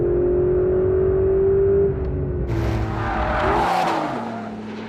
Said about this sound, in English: it really does sound pretty good for a turbo